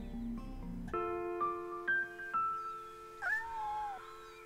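A cat meows inside the video game Shenmue, sounding several short, moderate calls over a faint background of game tones, with no talk.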